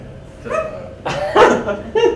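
A voice imitates a dog barking in several short yelping barks, loud and close, during a Passover telling of Had Gadya.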